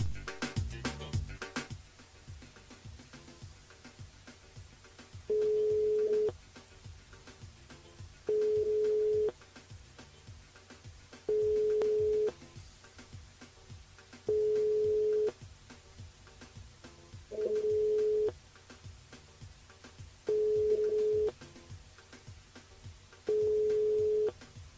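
A telephone line rings unanswered during a live radio call-in show, a steady tone repeating in regular bursts roughly every three seconds, about seven times, over faint background hum with no talking.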